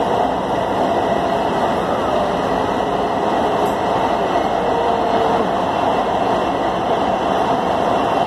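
Los Angeles Metro Red Line subway train riding underground, a steady loud rumble and rushing roar of the car in motion running the whole stretch, with faint voices in the background.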